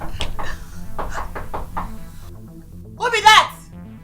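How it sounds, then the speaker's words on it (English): Repeated knocks on a door, a series of sharp raps spaced through the first two seconds, close and fairly loud, with people talking over and after them. "Choma, open the door"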